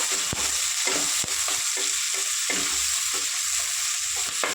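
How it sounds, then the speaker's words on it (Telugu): Onions and green chillies fry in oil in a steady, close sizzle, with the scrape of a spoon stirring through them several times; no one speaks. "2 ఉల్లిపాయలు, ఒక 4 పచ్చిమిరపకాయలు వేసి ఫ్రై చేసుకుందాం"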